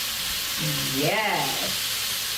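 Food sizzles in a hot pan with a steady, loud frying hiss throughout, while a person speaks briefly over it.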